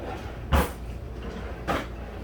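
Kitchen drawers slide open and shut twice in a busy kitchen during a search for tongs while making pasta, two brief rattling thuds spaced about a second apart over steady background noise.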